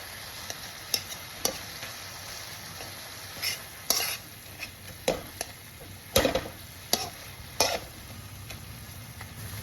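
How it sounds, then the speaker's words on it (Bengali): Sweetened sandesh mixture being stirred into a filling in a pan over low flame, with repeated sharp spoon scrapes and taps against the pan above a soft background hiss, close and without speech. "এবার দিয়ে দিলাম মাখা সন্দেশটা। এবার এর সাথে মিশিয়ে দেব।"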